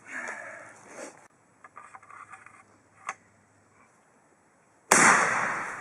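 A homemade pipe shotgun fires a 3.5-inch Magnum shell with extra material packed down the bore. Faint handling clicks and taps come first, then one sudden, loud, sharp blast near the end that rings out and slowly decays.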